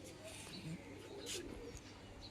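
A mature adult pigeon in a home loft gives brief, low cooing notes amid a busy wash of background noise and light chirps.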